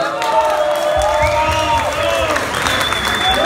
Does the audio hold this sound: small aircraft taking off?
no